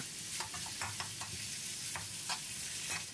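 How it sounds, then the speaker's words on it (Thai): Minced pork stir-fried in a pan over low to medium heat: a constant close sizzle broken by repeated scraping strokes of the spatula, with no talk. "ขั้นตอนต่อไปเราก็ใส่เป็นหมูสับลงไปได้เลยนะครับจากนั้นเราก็ผัด"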